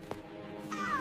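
A small stray cat gives a brief meow in a quiet house, a soft close cry rising near the end of the short stretch.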